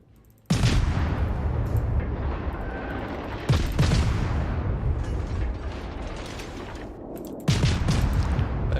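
Naval gunfire from a Gearing destroyer in a warship video game: three heavy booming salvos, each a sharp loud blast trailing into a long rumbling decay, spaced a few seconds apart.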